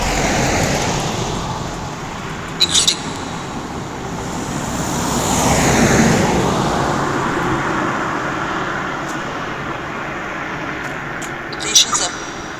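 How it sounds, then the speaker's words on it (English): A car drives past on a road near an ancient Roman cemetery site in Colchester, a broad rumbling swell that builds to a peak around the middle and fades again, with faint outdoor noise and brief knocks. "Wait for this car to go."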